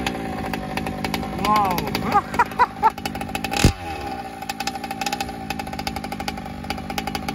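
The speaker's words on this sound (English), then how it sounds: "I'll rev it up a little bit. Let's rev it up." HPI Baja 5T gas-powered RC car engine revving, a buzzy two-stroke whine climbing in short bursts over a steady idle, close by, with a brief exclamation from a person.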